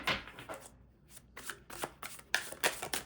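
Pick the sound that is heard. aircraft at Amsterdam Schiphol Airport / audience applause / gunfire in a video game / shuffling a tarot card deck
shuffling a tarot card deck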